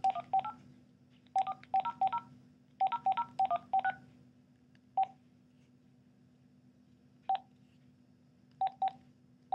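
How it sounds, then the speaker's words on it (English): Touch-tone dialing on an old-fashioned landline telephone, a string of short, clear DTMF beeps in quick clusters, then a few spaced single tones, over a faint steady hum. "Try it with my landline telephone first"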